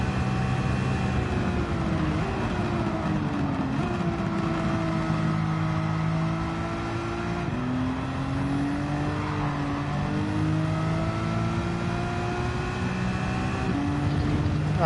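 Car engine heard from the cockpit view in Gran Turismo 7, revving loudly and continuously with repeated upshifts and rising pitch, no voices over it.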